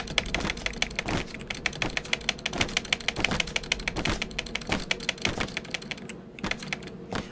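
Rapid, steady keystrokes on a computer keyboard, close and clear, with the clicks running in a dense, even rhythm and no voices.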